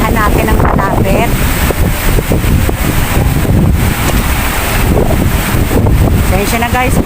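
Strong, cold wind buffets the microphone outdoors by a carabao in front of IFC Mall, a loud, constant roaring rumble with gusty surges throughout.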